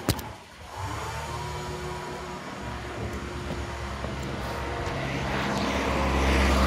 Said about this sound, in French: on est un peu sur une route un peu peuplée, donc il y a beaucoup de voitures, c'est un peu chiant